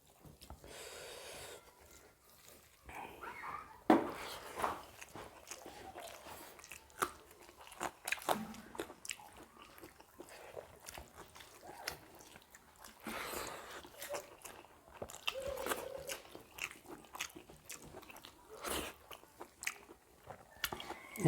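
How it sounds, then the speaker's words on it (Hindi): Someone eating a meal of cauliflower, cabbage, beans and garlic curry with rice, chewing and biting with soft crunches in a steady irregular rhythm, close up, with occasional faint background sounds and no talk. "तो चलिए दोस्तों फटाफट खाते हैं, बहुत ज़्यादा भूख लगा है।"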